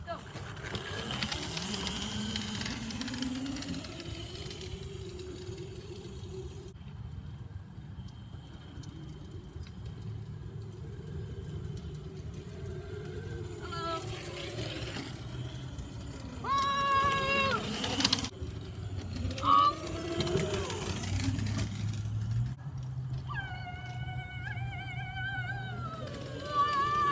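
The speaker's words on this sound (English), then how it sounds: "me and Brain Freeze are here, just on his dirt bikes, just, whoa, just riding around for fun" Dirt bikes ride around outdoors, engines revving and whining up and down in pitch, near then farther away, with a voice talking over parts of it.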